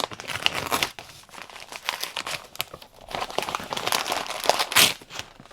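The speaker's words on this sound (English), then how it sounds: "So let's just unwrap it and see what it is." Paperback book being unwrapped from its paper wrapping, close crinkling and tearing in irregular bursts, with a sharper rip near the end.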